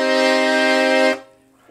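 Cream Frontalini LM 41 accordion on its master register, low and middle reeds sounding together in one loud, sustained chord held for about a second before cutting off, played alone.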